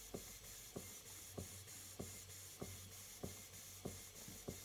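A model nineteenth-century Mary beam steam engine running on steam, giving a steady rhythmic chuff about every 0.6 seconds over a continuous hiss, close and fairly quiet with no talking.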